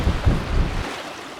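Strong wind on Fishfin Ridge in Idaho's Bighorn Crags buffets the microphone in a loud, low roaring gust that cuts off abruptly just under a second in, leaving quieter air.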